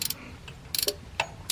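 A 15 millimeter ratchet wrench clicks on a bolt while an alternator comes out of a 2010-17 Chevy Equinox V6, a few short close clicking bursts with quiet pauses between.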